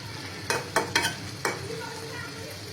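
Sticky pumpkin curry stirred in a pan, a few distinct scraping knocks of the spoon over a low, soft simmering sizzle, close by and without speech.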